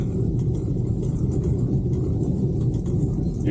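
Car driving along a bumpy, up-and-down road in the Puna of Argentina, a constant low rumble of engine and tyres inside the cabin, steady and fairly loud throughout.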